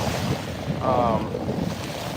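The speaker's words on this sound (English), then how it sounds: "I got these waves splashing up on me." Choppy ocean waves splash against a bangka outrigger boat during a one-on-one boat race off Dumaguete, Philippines, a brief close rush of water with wind buffeting the microphone.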